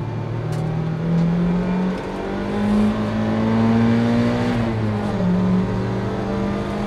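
Inside a Mazda MX-5 racing in a Roadster Cup round, the engine drones loudly and steadily, its pitch climbing under acceleration, dipping briefly at a gear change, then rising again.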